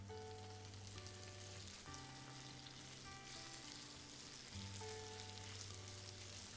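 Sliced zucchini and garlic fry in a pan with a steady, soft sizzle, partly masked by tonal background music that plays throughout.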